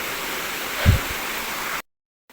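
Steady broadband rush of water pouring over Kipot Falls in Culasi, Antique, heard nearby, with a brief low thump midway before the sound cuts off abruptly.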